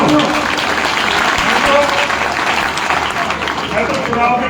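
A rally crowd claps loudly and steadily, with a voice talking over the applause throughout.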